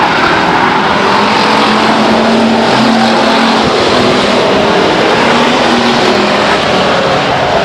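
Race cars roar around Stockton 99 Speedway in single file, a loud, continuous engine wash that swells and fades slightly as the field passes, without talk.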